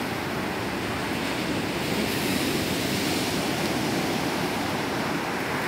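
Big sea waves crash and roar in a continuous, loud wash of surf close by, with no pauses and no voices.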